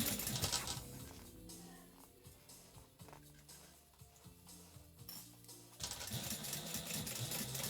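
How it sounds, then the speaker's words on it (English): A sewing machine stitches a fabric dumpling pouch closed, giving faint, close bursts of rapid mechanical whirring separated by pauses and light handling clicks. "Last bit of sewing, aside of closing it up, of course."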